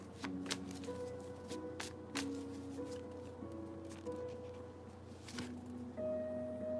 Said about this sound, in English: I'm pulling from the middle of the deck and I've been shuffling the whole time.